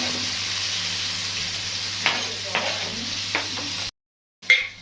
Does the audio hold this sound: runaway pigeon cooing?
no